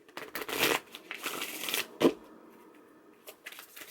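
Tarot cards being shuffled and pulled from the deck, giving soft papery riffles and slides in several bursts with one sharper snap, close and fairly quiet with no talking.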